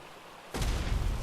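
An Ark weapon in a video game fires and its round explodes, a sudden loud boom that cuts in after near silence and leaves a rumbling wash trailing off.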